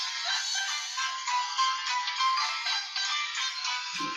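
A mobile phone ringtone plays a bright, warbling electronic melody for several seconds, clear and fairly close, with no one speaking over it.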